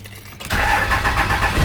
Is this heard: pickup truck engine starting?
yes